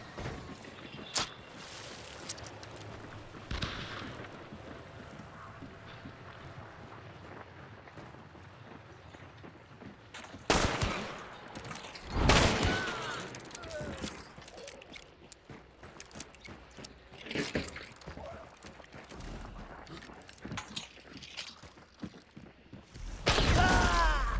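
Gunshots in the Western shooter Hunt: Showdown 1896 ring out as several sharp, loud broadband cracks, each trailing a brief echo, spaced irregularly over quieter ambient game noise with no talk.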